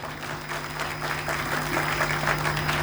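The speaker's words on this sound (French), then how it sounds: "Est-ce qu'on peut l'applaudir, s'il vous plaît?" Audience applause at a sworn oath ceremony, a steady wash of many hands clapping at moderate volume, continuous throughout with no voices over it.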